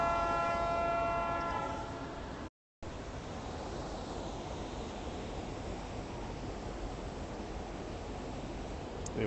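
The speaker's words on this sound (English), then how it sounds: "you can hear the train behind me" A train passes with a loud, sustained horn blast at the start, then a continuous heavy rumble of rolling wagons with a brief dropout partway through.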